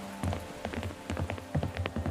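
Rain falling in a ghost story narration, close irregular patters and drops hitting a surface over a low steady hum.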